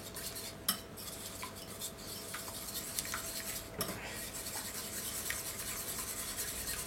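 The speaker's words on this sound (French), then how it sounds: "Vas-y, mélange tout pour que ça fasse une pâte homogène." Mixing cookie dough in a bowl, butter and egg worked in by hand in a home kitchen: steady, faint scraping and stirring with a few sharper clinks of utensil against the bowl, continuous and close.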